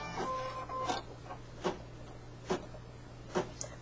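An embroidery machine sews fringe earrings with a steady low hum, punctuated by four evenly spaced sharp clicks roughly every second, close and moderately loud with no voices.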